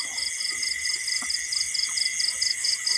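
Steady crickets chirp in rapid repeating pulses around a night-time insect light trap in Thailand, continuous and fairly close against a quiet background.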